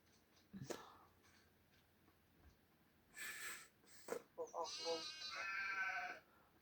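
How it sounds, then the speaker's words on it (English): A few sheep bleat nearby, wavering cries rising over a quiet background with a soft thump and faint rustling between calls. "Alright, sheep."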